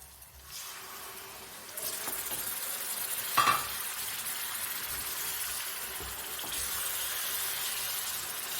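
Gentle sizzling and bubbling from a pan of small-fish and raw mango curry with soft scraping as it is stirred, steady and close, with a brief clink partway through.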